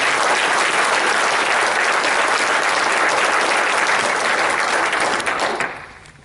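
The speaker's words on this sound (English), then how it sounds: "I think we need to give them all a round of applause." A dense round of audience applause from a crowd at a congressional candidate forum with students, loud and sustained for several seconds before quickly tapering off.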